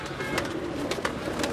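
Teddy pigeons cooing in a loft, soft repeated coos at a steady pulse over a constant low hum, close and moderately quiet.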